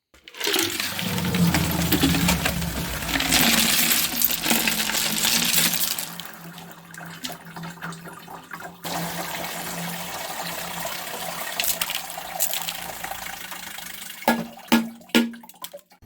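Puddingstone rocks are emptied from a rock tumbler and washed in water, giving a loud rush of clattering stones and sloshing liquid at first, then quieter trickling with a few sharp knocks and clinks near the end.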